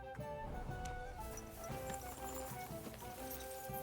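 A horse in a video game clops along with steady hoofbeats beneath a dense bed of game music and effects, moderately loud and continuous throughout.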